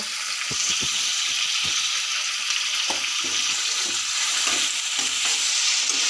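A ground paste of onion, ginger, garlic and cashew sizzles loudly in a hot pan for chicken kosha, a steady close hiss broken by irregular scraping clicks from stirring, with no talking.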